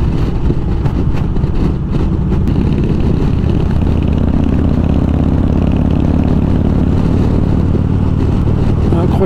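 A Harley-Davidson Electra Glide Police motorcycle is ridden on the road, its loud, close engine rumbling and pulsing steadily without letup while a rider's voice talks over it.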